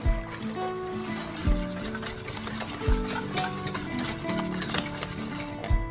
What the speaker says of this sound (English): stir with a whisk until the sauce thickens to a